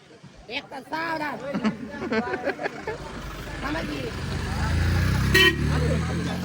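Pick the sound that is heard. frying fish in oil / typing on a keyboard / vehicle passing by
vehicle passing by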